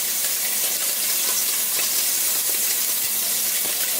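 Scallops searing in a frying pan for a seafood white wine sauce, giving a loud, steady sizzle and hiss with no talking.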